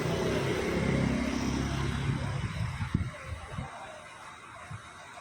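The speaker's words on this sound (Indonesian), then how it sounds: "di situ bus Cahaya Kembar Jaya udah keluar juga" A bus pulls out of Terminal Bato bus station, its engine rumble loud and steady at first, then easing off as it moves away, leaving scattered knocks and light traffic noise.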